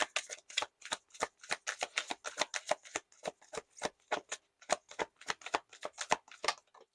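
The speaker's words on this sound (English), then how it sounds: "I'm going to shuffle one more time." Tarot cards being shuffled by hand in a steady run of crisp riffling snaps and flutters, close and fairly loud, continuing without pause and with no talking.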